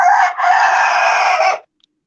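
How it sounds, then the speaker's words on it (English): A young rooster gives a single loud, close crow lasting about a second and a half, with a brief break near the start, then silence. "That's one of the baby roosters there."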